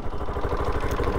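Bajaj Pulsar RS200 motorcycle, BS3 model, idling with a rough, uneven engine sound, a steady low throbbing pulse close by, brief and with no talk over it.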